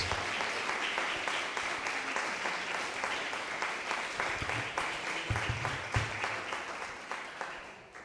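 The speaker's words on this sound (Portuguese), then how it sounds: "Vamos aplaudir o Senhor." A church congregation applauds steadily for about eight seconds after a sermon, a dense wash of many hands clapping, sustained and fairly loud throughout with no voices standing out.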